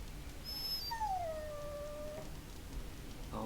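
A dog in the video game Dragon Age lets out a single drawn-out whimpering whine that slides down in pitch, quiet and clear against a soft ambient background.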